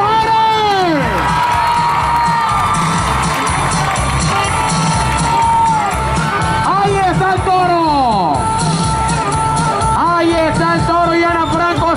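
A dense crowd cheers and whoops at a bullfighting event in Monagrillo, loud and constant, with a sweeping shouted voice over an announcer's amplified talk.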